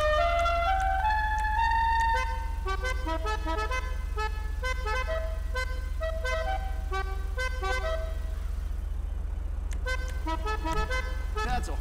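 A car horn in Grand Theft Auto V sounds a rapid series of short, melodic toots in a garage customization menu, a steady low engine drone running beneath throughout.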